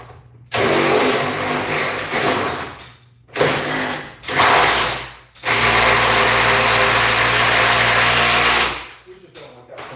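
A power driver runs a lag screw into a garage door frame during installation, whirring loudly in three bursts: a long first run, a short pair of pulses, then a sustained final drive.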